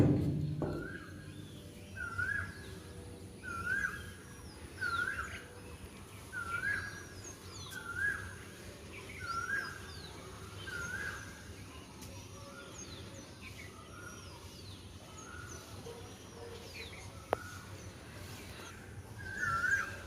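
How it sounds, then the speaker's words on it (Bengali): A koel calls in the morning, repeating a bright rising two-note whistle roughly every second and a half at moderate distance, over a low rumble of background noise. "চারিদিকে কোকিলের আওয়াজ।"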